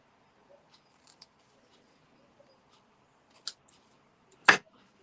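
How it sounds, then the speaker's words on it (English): Scissors snipping the edges off designer series paper in a quiet papercraft setting, a few faint small cuts followed by one sharper, louder snip near the end. "So I'm just going to snip those edges off"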